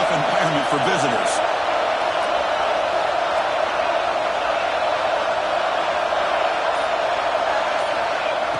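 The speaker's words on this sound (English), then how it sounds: "Listen to the crowd energy here in the early going." A stadium crowd roars at an Ohio State versus Clemson college football game, a broad, steady wash of far-off cheering that holds level throughout, with a brief bouncing thud near the start.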